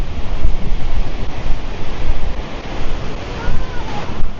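A forest waterfall deep in dense jungle near Belpahari, Jhargram, gives a loud, close, continuous rush of flowing water, a steady broadband roar with some wind buffeting on the microphone.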